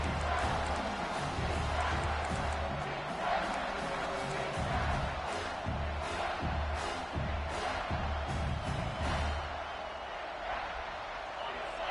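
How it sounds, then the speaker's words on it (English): A stadium crowd at a college football game roars as the defense holds in the red zone, a loud sustained wash of cheering behind a commentator talking. "And the crowd coming to life here, trying to help this defense down in the red zone"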